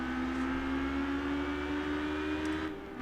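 A car with a Honda K20 engine revs in third gear during a race in the Gran Turismo 4 video game, a steady, sustained high engine drone held for about three seconds with no talk.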